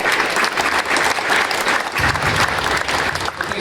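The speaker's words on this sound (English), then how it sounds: "applause for both of our candidates" A crowd at a Minneapolis Ward 8 city council candidate forum gives sustained, dense applause, loud and continuous throughout with no speech over it.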